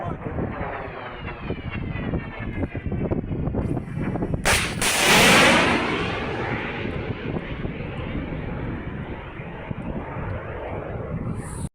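A loud, close anti-aircraft gun blast rings out over the rumbling roar of a Russian Kh-101 cruise missile over Kyiv Oblast. The roar then fades slowly into the distance.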